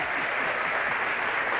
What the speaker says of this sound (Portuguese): Palmas para o Padre Marcelo.